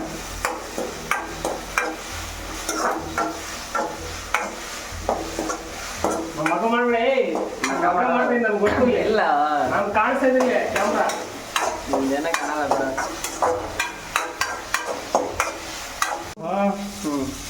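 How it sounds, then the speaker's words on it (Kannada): Frying in oil in a pan while making avalakki, with frequent spoon scrapes and clinks against the pan over a sizzle, and some voice in the middle stretch. "ಒಂದು ಟೂ ಮಿನಿಟ್ ಫ್ರೈ ಮಾಡಿ ಚೆನ್ನಾಗಿ ಆಯಿಲಲ್ಲಿ"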